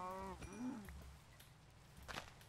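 A cow in the Minecraft video game lets out a drawn, wavering moo at the start, followed by a few soft game clicks and thuds.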